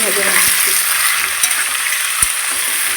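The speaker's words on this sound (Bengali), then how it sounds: "আলু ভাজা হচ্ছে পেঁয়াজ দিয়ে হবে পেঁয়াজ দিয়ে আলু ভাজা" Sliced potatoes with onion and chopped dried chili fry in a pan with a loud, steady close-up sizzle, broken by a few sharp utensil taps and scrapes against the pan.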